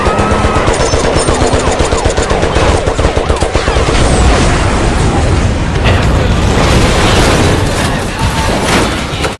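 Robbers shoot police in a film scene, with dense, loud automatic gunfire in rapid bursts and heavy booming shots that continue almost without a break.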